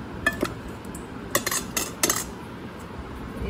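Ground chicken from a mixer jar is moved into another bowl with a metal spoon, giving several sharp clinks and scrapes against metal and glass. Close and moderately loud, with no voices.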